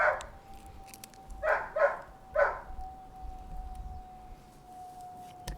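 A dog barks in a few short bursts, three or four close yaps early on before falling quiet, with a faint steady tone and room noise continuing afterward.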